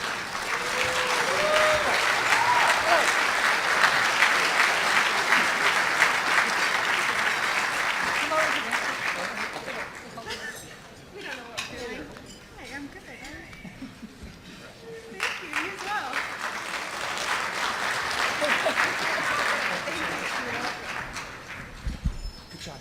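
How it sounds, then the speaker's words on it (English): An event audience gives a long, loud round of applause for volunteers, dense clapping that swells, fades to scattered claps around the middle, then rises again, with voices speaking alongside. "Let's give your volunteers a great round of applause."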